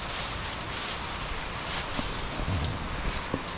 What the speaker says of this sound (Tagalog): mula Monday hanggang ngayon, walang tigil po yung ulan